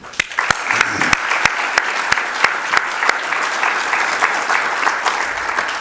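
A conference audience claps steadily with a few sharp individual claps standing out, a sustained round of applause at moderate distance.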